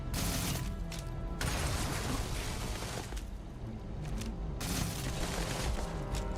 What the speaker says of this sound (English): dude's got a machine gun